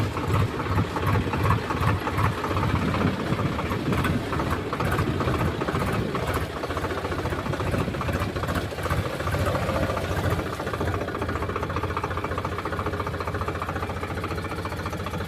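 A tractor engine idles steadily at a pond's edge with the machine partly in water, a continuous low rumbling drone that stays loud and even throughout, with no talk.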